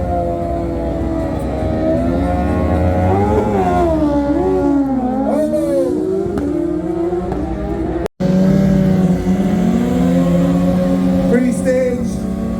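A Kawasaki engine revs loudly at a bracket drag race, its pitch rising and falling in repeated swells, with a brief cut partway through before the engine note resumes, close and continuous.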